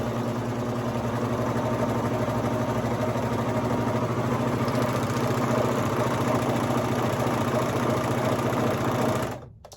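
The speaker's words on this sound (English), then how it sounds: "And I'm just going to start serging." Serger sewing machine stitching fabric for baby leggings, a steady, loud, continuous whirring hum that runs for nearly ten seconds and then stops abruptly.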